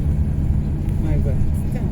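A camper van drives past on the Transfagarasan mountain road, its low engine rumble heavy and close for a couple of seconds while a voice murmurs faintly.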